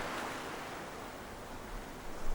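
Ocean surf rolling onto a beach: steady broadband wash that swells and recedes, with a low rumble building near the end, no voices.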